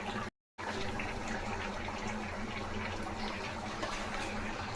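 Water splashes and gushes steadily into a pot of simmering rasam, a close, continuous pour after a brief gap at the start.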